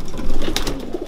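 Racing pigeons coo inside a loft, a soft, throaty burbling close by that rises and falls in short repeated phrases, with a brief flutter of other bird calls.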